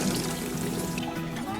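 Running water splashes over a garfish fillet frame as it is rinsed by the water at the beach, a steady close pour and trickle for under two seconds, with faint background sound.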